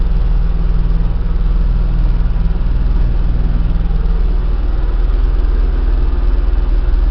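A tractor engine runs steadily with a freshly repaired bush hog attached, a loud, even low rumble that holds smooth and unbroken with no voices.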